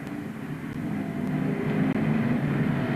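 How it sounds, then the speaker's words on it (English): Banger racing cars, a Datsun among them, roar past in a heat with a thick, continuous engine drone that holds loud and steady throughout, broken only by one sudden brief dip. "Andy Gates goes third in the Datsun 191, the race leader"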